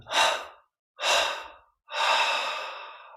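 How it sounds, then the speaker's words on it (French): Three deep breaths drawn through the nose during a guided meditation, each a long, close, airy rush separated by brief silences, the last one longest, with no talking over them. "on prend une inspiration profonde par les narines"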